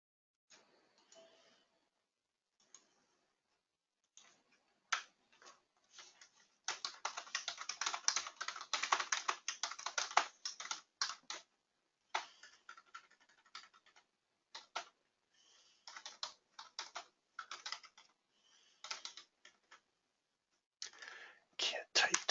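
Computer keyboard typing comes in quiet, irregular bursts of soft clicks, with a dense flurry in the middle and scattered keystrokes before and after, close but faint.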